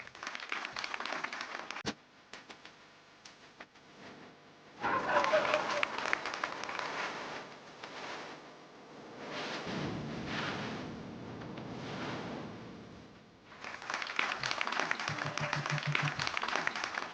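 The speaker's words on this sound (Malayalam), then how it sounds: "നല്ലൊരു കയ്യടി കൊടുത്ത് അരുണിനെ നമുക്ക് ഈ വേദിയിൽ നിന്ന് യാത്രയാക്കാം." Audience applause for the performer Arun on a Malayalam comedy show stage: bursts of clapping swell in and out across the scene, the loudest near the middle and at the end, with a host's voice speaking between them.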